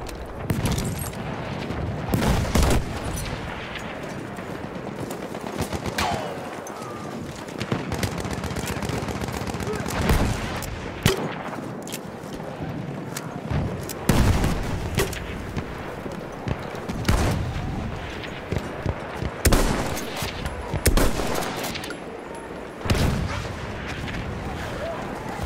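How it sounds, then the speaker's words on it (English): Battlefield 1 wartime combat rages with rapid machine gun bursts and sharp rifle cracks, loud and close, punctuated by heavy booms of artillery and explosions in irregular clusters, with occasional shouted voices in the mix. "There! Enemy machine gun!"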